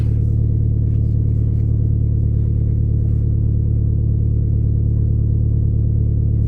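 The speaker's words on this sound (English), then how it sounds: "The engine's warming up." A car engine idles steadily while warming up, a loud, close, even low rumble with no change in pitch and no talking.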